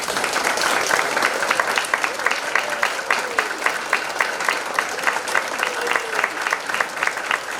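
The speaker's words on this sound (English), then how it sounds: "give a big warm round of applause for all of our soloists this evening" An audience at a summer evening city band concert gives a big, sustained round of applause for the soloists, many hands clapping steadily and fairly close, with a few distinct sharp claps standing out in a regular rhythm.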